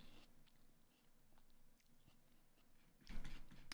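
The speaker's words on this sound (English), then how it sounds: "I'm eating pickled radish if you hear me chewing." Someone chews pickled radish cubes (sokpakji) close to the mic, producing quiet, soft crunching bites over a faint room background, with a louder crunch near the end.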